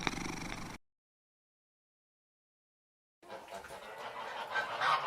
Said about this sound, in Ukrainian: Гусак.